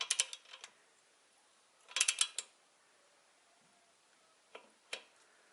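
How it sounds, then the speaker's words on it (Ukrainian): A torque wrench clicks as it reaches its setting while the cylinder head nuts of a D-250 engine are tightened: a few sharp ratcheting clicks in separate short clusters, close by, with quiet gaps in between. "поки нас не спрацює динамометричний ключ"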